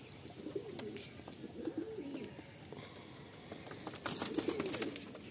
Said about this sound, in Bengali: এই সাদা পায়রাটা দেখুন কত সুন্দর পায়রা